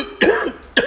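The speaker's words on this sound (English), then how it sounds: "This cough is killing me." A person with a bad cough lets out two sharp, close coughs in quick succession, loud and alone in a quiet room.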